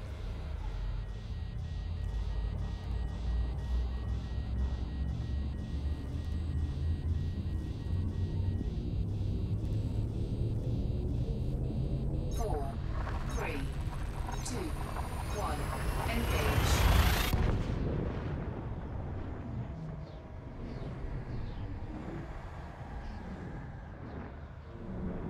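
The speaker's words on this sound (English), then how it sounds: "Frameshift drive charging" A spaceship's frameshift drive charges in a video game during fuel scooping, a heavy rumble under a bright, rising whine that builds steadily to a loud peak and then drops away.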